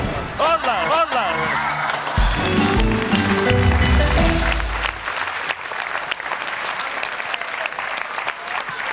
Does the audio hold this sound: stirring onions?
no